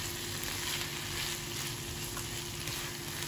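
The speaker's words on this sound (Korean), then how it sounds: "토마토를 4등분해서 또 같이 볶아줄게요" Quartered tomatoes stir-frying with sliced onion and garlic in a pan, a dense, continuous close sizzle that stays level throughout with no voices.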